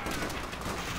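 Sustained gunfire aimed at a machine-gun nest in Call of Duty: World at War, a dense, unbroken rattle of shots at steady loudness with no clear pauses.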